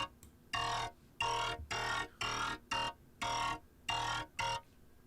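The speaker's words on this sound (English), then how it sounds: "So I can show you what the resonator kind of sounds like without the" Resonator effect on a synth bass line heard without the bass itself: a series of bright, ringing tonal bursts in a choppy rhythm, with short gaps between hits, close and alone.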